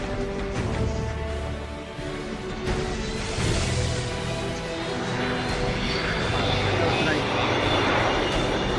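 A bomber flies past at the 2014 Farnborough airshow with its bomb bay opening, giving a broad, steady engine roar and whine that holds loud throughout, with a commentator talking over it.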